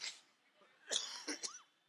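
A few short, harsh coughs close to the microphone in quick succession, followed by quiet.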